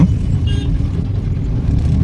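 Steady road traffic rumbles through a busy town market street, with a continuous low drone of passing cars and vehicles heard close by and no talk over it.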